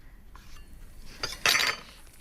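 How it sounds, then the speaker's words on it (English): A knife cuts slices of bloomer bread into chunky cubes on a board, a few quick crisp chops and taps up close, ending in a louder, sharper clatter. "I've got a couple of slices cut from a bloomer here, which I am now just cutting into chunky cubes"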